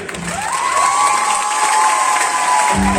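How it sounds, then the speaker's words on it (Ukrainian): An audience at a folk concert applauds and cheers, a loud continuous wash of clapping with whistles and shouts held throughout, a rising tone sounding over it. "Дайте нам аплодисменти!"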